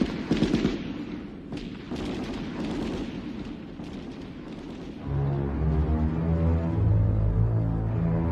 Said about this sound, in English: decimated these terrorists with automatic gunfire